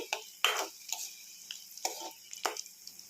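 Green chillies sautéing in a pan for chutney give a soft, quiet sizzle, broken by several sharp scraping stirs of a spoon against the pan at irregular intervals, close by.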